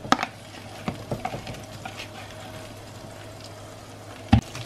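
Shrimp go into a pan for stir-fried razor clams, followed by quiet stirring, a faint steady sizzle, scattered light utensil taps, and one sharp louder clank near the end.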